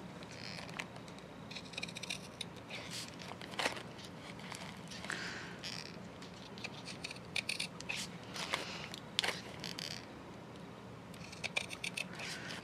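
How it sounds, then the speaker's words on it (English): Repeated snips and crisp cuts of scissors trimming paper tea filters, irregular and close, with rustling and light handling noise between them. "I'll get my scissors and we will trim those down."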